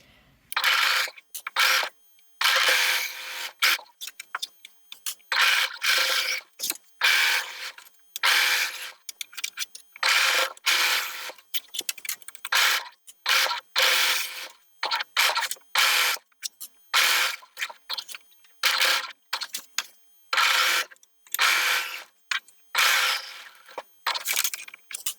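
A sewing machine stitches around a slip strap in quick rattling bursts, stopping and starting many times with brief pauses between runs, close and clear.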